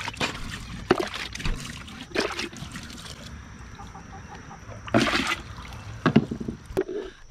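Rainwater poured into a container outdoors, with intermittent splashing gushes and trickles in separate bursts, loud and close, between quieter gaps of background ambience.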